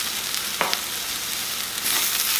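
Bacon bits frying in a pan while squirrel is cooked with gravy and greens, giving a steady close sizzle with a brief stir or clatter partway through.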